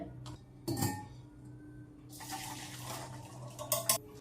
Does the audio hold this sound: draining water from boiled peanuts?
yes